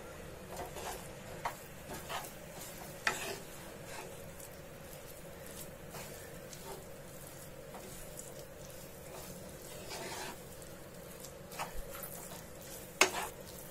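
Sweet mixture being stirred fast in a pan over a low gas flame while making an Indian mithai, with soft continuous scraping and occasional louder spoon knocks against the pan, alone and fairly quiet.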